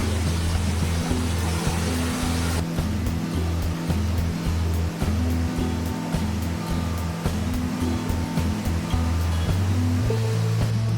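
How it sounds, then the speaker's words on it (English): Steady, loud rush of a roadside waterfall on the Isle of Skye, Scotland, fills the whole stretch, a constant broadband roar with a low mechanical hum underneath. "I just stumbled upon this beautiful waterfall from the side of the road."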